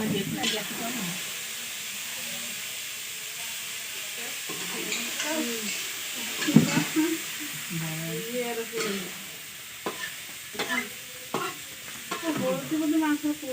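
Meat frying and being stirred in a pan in a home kitchen, with a steady sizzle and hiss under scraping stir strokes and occasional clinks, while people talk nearby.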